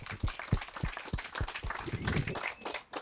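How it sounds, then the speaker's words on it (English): Audience applause at a church service, a steady wash of many hands clapping at moderate volume for several seconds, heard from a distance in a large room. "Can we give them a round of applause?"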